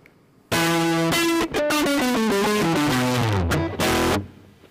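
Electric guitar processed with heavy added distortion, producing a loud, gritty, saturated run of notes stepping downward, with brief gaps between phrases and no talking.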